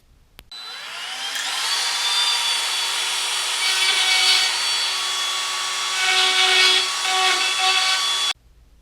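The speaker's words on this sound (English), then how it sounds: "first let me clean this up with the Dremel." A Dremel rotary tool cleaning a worn metal rail on a Schwintek RV slide-out, running as a steady high-pitched whine with grinding contact noise for about eight seconds before cutting off, close and alone.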